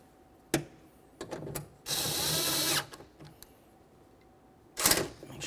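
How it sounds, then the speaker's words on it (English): An 11 mm socket tightens the bolt on the exterior door handle of a 2001-2005 Ford Explorer Sport Trac. Scattered close clicks surround one sharp, roughly one-second whirring burst, and a louder clatter comes near the end. "Use your 11 millimeter to tighten this."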